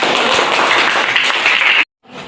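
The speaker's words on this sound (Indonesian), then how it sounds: "Oke, tepuk tangan buat kita" A class of students in an Indonesian mathematics lesson applauds together, a dense steady burst of clapping that stops abruptly near the end.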